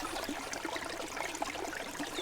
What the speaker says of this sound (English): You can hear the water running behind me